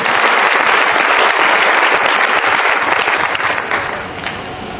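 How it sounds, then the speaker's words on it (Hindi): An audience at a business awards event bursts into loud, dense applause, many hands clapping close and sustained before tapering off slightly at the end. "एक बार जोरदार तालियों प्लीज"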